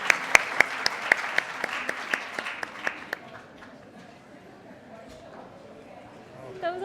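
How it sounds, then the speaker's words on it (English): Audience at a university gathering clapping for alumni guests: a burst of sharp, close claps that thins out over about three seconds, then a voice speaks over the quiet room. "Another round of applause for our guests,"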